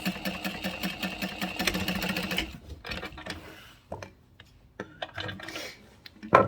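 A sewing machine stitches a seam at 3/8 inch allowance, running in a steady buzzing burst for about two and a half seconds, then stopping, followed by scattered quiet handling clicks and a sharp knock at the end.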